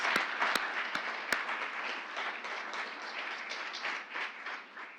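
An audience claps at a graduate award ceremony, a soft continuous patter of many hands with a few sharp, close claps near the start, fading slightly toward the end.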